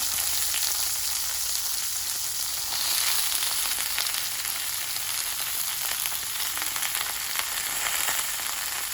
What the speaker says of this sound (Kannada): ಕಟ್ ಮಾಡಿ ಇಟ್ಕೊಂಡಿರುವಂತಹ ಬದನೆಕಾಯಿ ಹೋಳುಗಳನ್ನು ಇದರಲ್ಲಿ ಹಾಕ್ಕೊಳ್ತೇನೆ